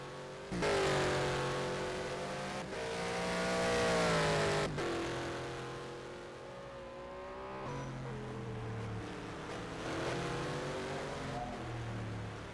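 Race cars in a virtual endurance race at Bahrain accelerate out of the final corner, engines rising in pitch through repeated gear changes as several cars pass in succession, loud and continuous.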